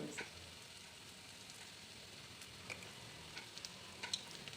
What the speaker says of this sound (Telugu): ఇప్పుడు ఇందులో కొంచెం పసుపును ఉప్పు రెండింటిని వేసి ఆనియన్స్ని బాగా వేయించుకోవాలి